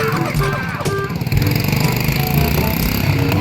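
A rusty but still sound Honda TMX motorcycle engine runs close by with a steady, buzzing single-cylinder drone that picks up slightly partway through, loud and continuous with no talking over it.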